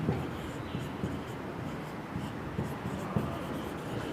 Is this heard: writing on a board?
yes